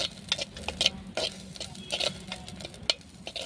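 Basella seeds crackle and pop in hot oil with fried onions on a wood-fired stove, with scattered sharp spits and light stirring scrapes over a low steady sizzle, fairly quiet and close.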